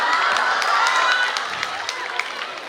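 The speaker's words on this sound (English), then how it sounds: "Please, big round of applause once again." A conference audience applauds after a presentation at an international drug development event, giving a few seconds of dense, even clapping that starts loud and tapers slightly.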